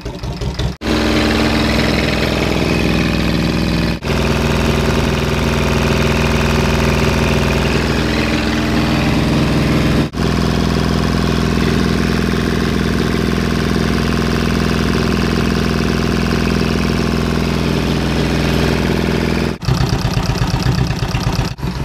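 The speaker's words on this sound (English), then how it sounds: "So I've been running the engine for over an hour," A steel sailboat's inboard engine idles steadily with siphon-fed water cooling, a continuous close mid-pitched drone with a few brief interruptions, no voices.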